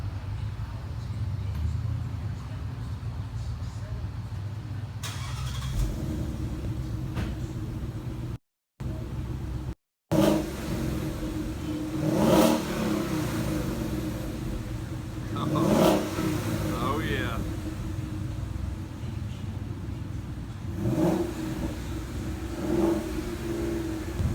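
A 2017 S550 Mustang GT with a GT500 axle-back exhaust and factory resonator, its engine droning steadily. Several sharper revs rise and fall over the idle, and a voice briefly sounds over the engine.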